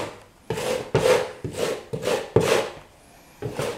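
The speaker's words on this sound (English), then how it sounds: "Rake the knife down again." A drywall knife rasps drywall mud over a butterfly patch in about seven close, scratchy strokes, each a short scraping swell separated by brief pauses.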